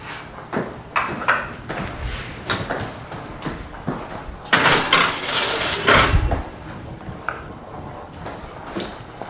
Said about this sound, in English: And we're gonna go ahead and put these in the oven